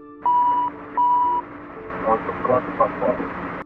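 Two consecutive electronic alarm tones sound in an airliner cockpit, each a clear sustained beep about half a second long with a short gap between them, followed by radio-like voices talking.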